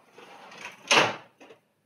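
A Ricoh copier's paper tray sliding shut, a short scraping slide ending in a firm thud, followed by a brief softer knock.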